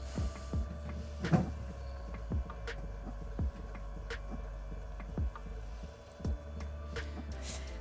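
A steady low motor hum from a Shimpo RK 55 potter's wheel runs throughout, with soft periodic mechanism thumps and clicks repeating about once a second, close by and fairly quiet.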